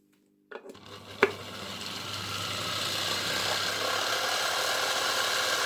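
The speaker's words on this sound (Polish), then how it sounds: "I silnik nawet działa, chociaż słychać łożyska i słychać jak turbinki obcierają" An old electric motor, type 1004.2/5 from Suhl in East Germany, switches on with a click and runs steadily, its rough whirring laced with bearing rattle and a faint scrape of rubbing turbines, no voices.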